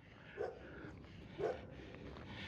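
A dog perched high on a tower at a beach house in Playa Poneloya, Nicaragua, lets out two faint, distant yips about a second apart over quiet outdoor ambience.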